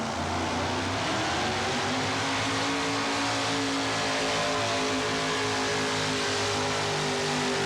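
A Ford race car in the 1988–1989 Red Man series revs at the green flag, a loud, steady engine roar that fills the whole stretch with a continuous droning tone.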